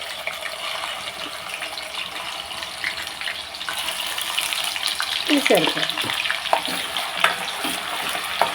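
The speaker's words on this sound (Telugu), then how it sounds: "ఇదిగోండి ఆయిల్ హీట్ ఎక్కింది మనం పచ్చిమిర్చి వేసుకుంటాం దీంట్లోకి ఉల్లిపాయ పేస్ట్ కూడా" Green chillies and onion paste frying in hot oil for a fish curry, a steady broadband hiss that swells into louder crackling and sizzling pops near the end, with no voice.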